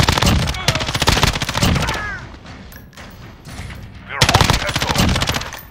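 Loud automatic gunfire from the video game Call of Duty: Modern Warfare in Ground War mode, with rapid bursts at the start and the end and a quieter gap in between.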